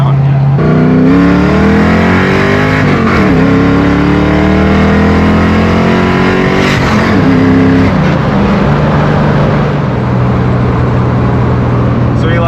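A Ford Mustang Foxbody engine revs loud and close while driving, its pitch climbing and falling through gear changes with a steady exhaust drone throughout.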